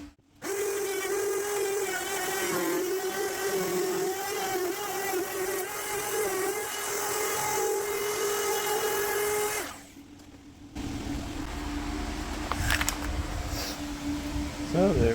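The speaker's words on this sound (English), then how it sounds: "I've dropped my router bit all the way, and it'll use the newly routed part as a template to do the rest of the board" A handheld router with a template bit hums loudly and steadily as it cuts along a board for van floor work, then stops; quieter handling noises follow.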